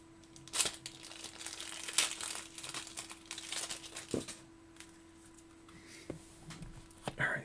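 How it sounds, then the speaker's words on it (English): A plastic bag of penny sleeves for trading cards is opened close up, with bursts of crisp crinkling and rustling and a few sharp rips over a faint steady hum. "Let's unbag these penny sleeves and then we'll get moving."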